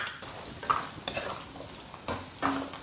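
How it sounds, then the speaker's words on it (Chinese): Pork belly is stir-fried in a wok with ginger, scallion, garlic and fermented black beans, giving a soft sizzle under a few distinct scraping stirs of the spatula, close and fairly quiet, with no talk. "煸炒出油脂过后，下入姜葱蒜豆豉"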